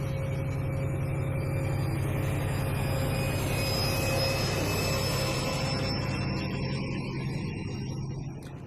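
An InterCity 125 train on the Edinburgh and Glasgow Railway runs steadily along the track with a constant engine drone and rumbling wheels, a faint high whine on top, easing slightly at the end.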